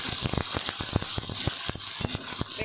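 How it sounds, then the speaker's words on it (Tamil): Shallots and garlic sautéing in a pan for a village-style dried fish curry, giving a steady close sizzle broken by repeated sharp scrapes and clicks of stirring, with no voices. "வெங்காயம் நல்லா வதங்கட்டும்."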